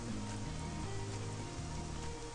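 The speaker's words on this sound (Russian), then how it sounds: "О, дождик пошел." Steady, soft patter of rain falling on a surface in the game Craft The World, continuous and fairly quiet, with a faint low hum underneath.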